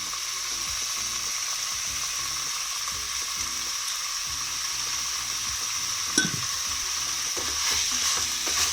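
Chicken frying with ginger garlic paste in a pan, a constant close sizzle hiss with rhythmic spatula scraping and stirring underneath and one sharp clink partway through.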